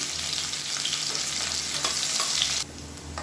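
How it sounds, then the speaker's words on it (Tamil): Onions sauté with mustard and fennel seeds in a hot pan, giving a steady, close hiss of frying. The sizzle drops abruptly in level near the end. "இப்போ வெங்காயம் நல்லா வதங்கிடுச்சு."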